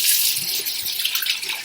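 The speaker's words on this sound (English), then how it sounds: "so I'm going to wash now" Tap water runs steadily into a sink for hand washing while vegan pizza is being made, a close, continuous hissing splash.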